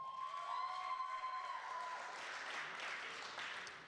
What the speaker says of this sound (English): let's give a round of applause for stage manager